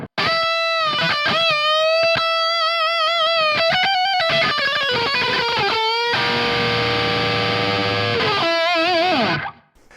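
An electric guitar through an Origin Effects M-EQ Driver overdrive plays a fast, sustained lead line with bends and held notes, loud and upfront, fading out at the end.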